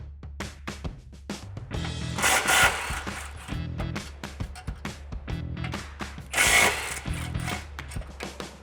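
A socket wrench with an extension loosens 13mm bolts on the cat-back exhaust of a 2015-2023 Mustang GT 5.0L, giving repeated rhythmic ratchet clicking bursts and metallic rattles up close, with no talking.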